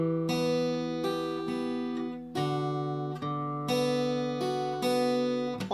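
A guitar is fingerpicked through bar 3 of the verse of a song, with clear picked notes in a steady rhythm, several fresh attacks ringing over one another, played alone without talk.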